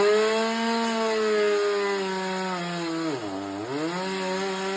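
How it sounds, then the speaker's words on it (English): A chainsaw with a dull chain cuts a tree, running steadily at high revs, its pitch dipping briefly as the blade bogs down in wood, then recovering; loud and close with no talking. "he definitely needs to sharpen the chainsaw"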